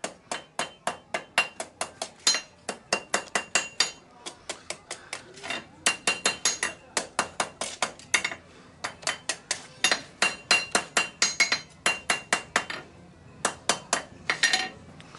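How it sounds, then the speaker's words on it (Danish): A blacksmith hammers hot metal on an anvil into its basic shape, sharp ringing strikes in quick rhythmic bursts with short pauses, loud and close. "Banker lidt i grundform, ikke?"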